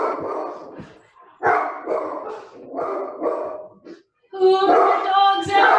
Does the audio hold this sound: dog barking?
yes